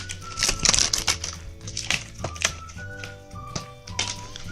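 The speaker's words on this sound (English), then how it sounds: "you have to cut the seal from here" Cutting the seal on the box of a silver Sony Compact Slim 1 TB wired external hard disk drive: a series of close scratchy knife scrapes and plastic crinkles, with soft taps and thunks on the packaging.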